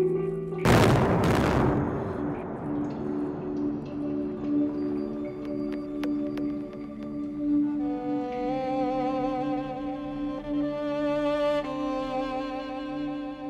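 An explosive blast in the Black Hills of South Dakota: one sharp, loud boom near the start, then a long rumbling decay under a sustained droning background.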